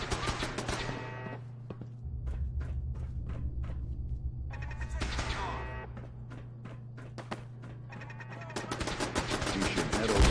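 Automated turrets in Fallout 4 fire in rapid bursts of sharp clicking shots, several volleys separated by pauses over a low steady hum, moderately loud.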